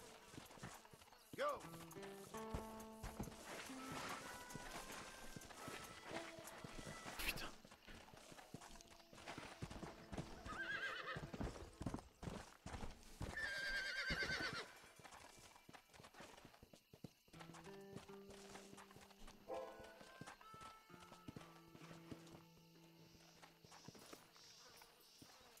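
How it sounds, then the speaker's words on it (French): Horse hooves clip-clop in short runs with an occasional whinny, set among Red Dead Redemption game music and effects, with a voice talking at times. "Un cheval."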